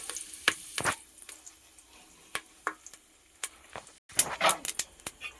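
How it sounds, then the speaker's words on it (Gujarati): Curry leaves dropped into hot oil already crackling with mustard and cumin seeds for a Gujarati besan patra tempering; sharp close pops and crackles burst irregularly over a soft steady sizzle, with a louder cluster near the end. "હવે એમાં આપણે નાખી દેવું મીઠો લીમડો."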